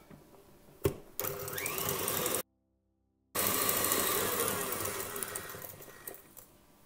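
Electric hand mixer beats cane sugar for a Polish babka, a close, steady whirring drone that starts with a knock, cuts out for about a second, then runs again and gradually eases.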